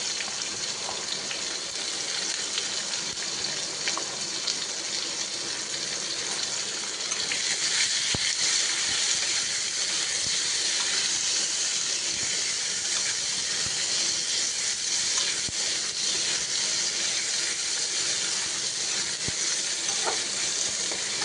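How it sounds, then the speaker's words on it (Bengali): Chopped onion sizzles with ginger in hot oil in a pan, a steady, loud frying hiss that holds for the whole stretch and swells a little partway through, with only faint stirring noises. "এবার দিয়ে দেবো পেঁয়াজ কুচি"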